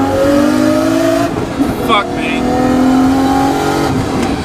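A Nissan Skyline R32 GTS-T with a 2.3-litre Tomei stroker engine making 400 bhp revs hard while driving, its engine note climbing and falling, loud and close inside the cabin, with a brief exclamation from a passenger.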